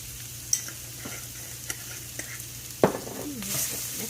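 A spatula stirs beef and softening vegetables in a hot pan, with low sizzling under a few distinct scrapes and clacks, one louder knock near the end, and a faint voice in the background.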